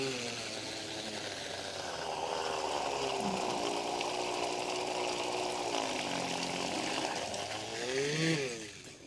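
Homemade 12-volt battery-powered water motor pumping water, a steady continuous whir with watery churning that holds for about nine seconds and then rises in pitch near the end.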